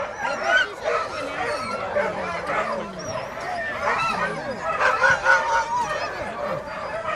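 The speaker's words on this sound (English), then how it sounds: "This is where the dogs like to stay and keep warm and hang out." Iditarod sled dogs at a musher's kennel in Willow, a busy chorus of nearby barks, yips and whimpers overlapping continuously, with people talking in the background.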